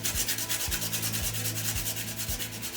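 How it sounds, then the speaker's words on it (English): 220-grit sandpaper rubs back and forth over a scratch in an epoxy shower wall, a loud, close, raspy scrubbing in a quick, even rhythm of about two strokes per second. "You work your way up in numbers with the sandpaper. If it's too rough, start off with 220, like this."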